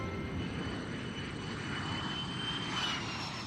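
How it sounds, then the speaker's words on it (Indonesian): A steady low roar of an airplane passing overhead, continuous and fairly loud throughout, with no voices. "Itu ada pesawat Mbak."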